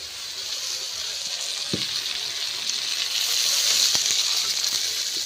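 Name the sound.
eggplant frying in a pan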